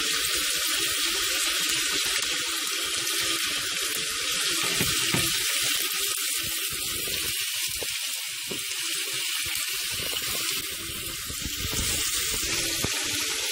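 Onion and chives sautéing in a pan while being stirred, a steady broadband sizzle running continuously at close range with occasional soft scraping from the stirring, no voices.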